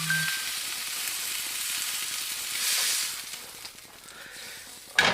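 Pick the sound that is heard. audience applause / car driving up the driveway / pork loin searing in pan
pork loin searing in pan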